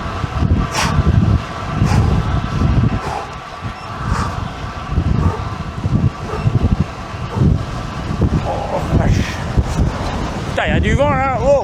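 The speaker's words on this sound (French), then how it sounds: "il y a du vent là" Gusty wind buffets the microphone with loud, rumbling bursts while people talk over it.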